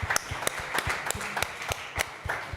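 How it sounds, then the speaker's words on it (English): A small panel audience claps in a sparse, uneven patter of separate hand claps, fairly quiet and steady for a few seconds, with no talk over it. "We can give them a big round of applause"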